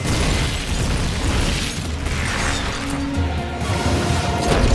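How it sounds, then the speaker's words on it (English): Rocket launcher fire and explosions in Metal Gear Solid: Peace Walker, a dense, loud barrage of booms and crashing impacts layered with rumbling noise that continues without a break. "Firing rocket launcher."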